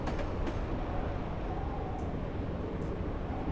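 A Class 76 electric locomotive running on the Woodhead Line in Train Simulator gives a continuous rumbling, rolling drone, with a few faint clicks over the steady noise.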